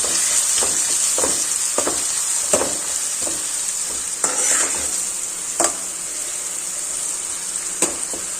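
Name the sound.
ginger, chili and garlic paste sautéing in a pan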